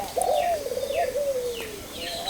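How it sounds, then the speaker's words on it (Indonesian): A perkutut, the zebra dove, coos in a rolling, trilled phrase that rises and falls, close and clear. Fainter bird calls sound in the background. "mencintai burung yang namanya perkutut"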